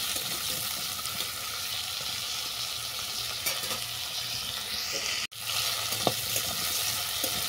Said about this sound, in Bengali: টকের সবজি খুব বেশি ভাজবো না, হালকা করে ভেজে নেব, 2-3 মিনিটের মতো ভেজে নেব।